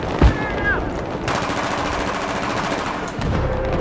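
Battlefield 3 gunfire rattles as a steady, dense stream of automatic shots running through nearly the whole stretch, preceded by a sharp single crack and a brief game tone.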